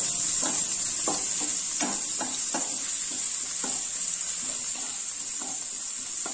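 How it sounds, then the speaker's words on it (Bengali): Freshly grated ginger and chopped green chilli are stirred in hot oil in a pan, a bright steady sizzle broken by repeated scraping strokes of a spatula. "দিয়ে এটাকেও একটু নাড়াচাড়া করে নেবো"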